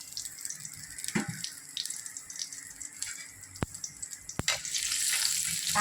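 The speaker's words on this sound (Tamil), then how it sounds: "இப்போ ஒரு கடாயில் எண்ணெய் ஊற்றி இந்த மராத்தி மூக்கு, கல்பாசி, துண்டு பட்டை, அன்னாச்சி பூ, கொஞ்சம் சோம்பு எல்லாம் போட்டு தாளிச்சிக்கணும்" Whole spices tempering in hot oil in a kadai: marathi moggu, kalpasi, a piece of cinnamon, star anise and a little fennel. Soft crackling and sharp pops lead into a louder, denser sizzle at the end, with no voices.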